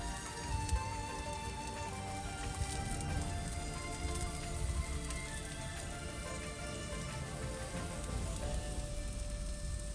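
Onions fry steadily in hot oil in a pan with a constant, dense sizzle, heard up close. Hot pepper and garlic are added for Guyanese-style fried rice.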